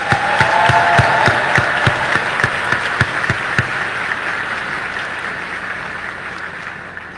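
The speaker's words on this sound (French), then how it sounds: "puissent nos applaudissements sincères t'inonder de joie" Sustained audience applause at a formal address, dense clapping that is loud at the start and slowly thins and softens over several seconds.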